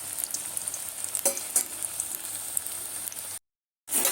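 Chickpea-flour onion fritters hiss and sizzle in hot oil as they are turned, a steady crackling fry with a few sharper spatters before the sound cuts out briefly near the end.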